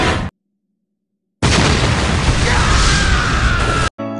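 A bomb blast from the anime Btooom erupts after a moment of silence as a sudden, loud, roaring explosion that holds for a couple of seconds and then cuts off abruptly.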